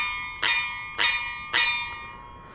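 Seven-string guitar strings plucked behind the nut, giving three bright, bell-like pings in an even rhythm, each ringing out and fading, close and with no talk.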